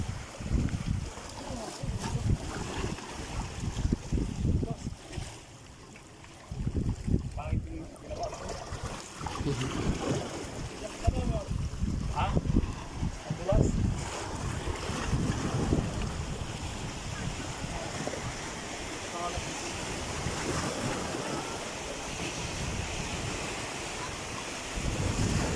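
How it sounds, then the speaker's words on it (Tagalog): Big sea waves surging and slapping around a boat at sea, heavy rolling wash and buffeting wind noise on the microphone, with people talking over it at times. "Oh, laki ng alon oh."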